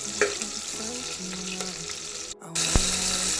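Onion, garlic, cinnamon and cloves sizzle in hot oil, a close, steady frying crackle with brief stirring scrapes and a short gap before the sizzle resumes louder.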